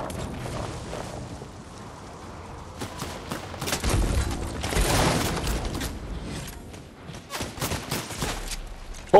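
Gunfire in Fortnite, with scattered shots and short volleys mixed with mechanical clatter and a few heavier bangs, rising and falling in intensity through the battle.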